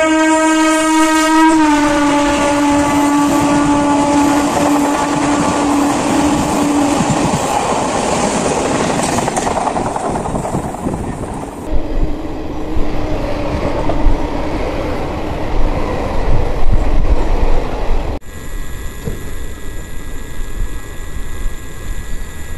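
Passing train on an Indian railway line, a loud sustained horn blast at the start, then roaring wheels and clattering carriages rushing close by, fading to rumble and hiss.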